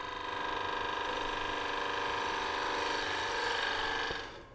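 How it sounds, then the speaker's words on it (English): Wood spinning on a lathe while a wig stand is turned, with a steady close, loud whirring drone and a faint rhythmic thump from a knot in the blank, fading slightly at the end. "thumping sound you hear, I believe, is a knot."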